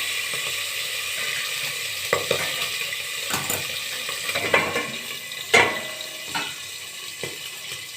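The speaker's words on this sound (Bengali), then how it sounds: "এই মাছটা এইভাবেই ঢেকে ঢেকে ভাজতে হয়" Fish frying in hot oil in a covered pan, a continuous soft sizzle and crackle with occasional sharper pops and spatters, close and moderately loud, with no talk.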